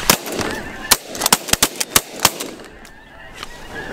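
Snow geese honk and call in a busy flock during a spring conservation goose hunt in the Dakotas, while a rapid string of sharp, close shotgun blasts cracks out over the birds, then the honking carries on alone.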